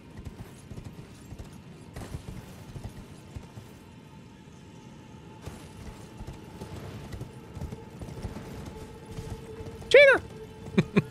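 A horse gallops in the Elden Ring video game, a steady clip-clop of hooves with a whinny near the end, under faint background game sound.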